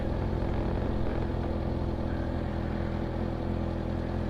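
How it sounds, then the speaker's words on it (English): A 2022 Kawasaki Ninja ZX6R 636 with its stock exhaust runs at a steady low rumble, a close, continuous engine drone with a throbbing pulse and no clear revving. "God, that exhaust sounds great. It's stock."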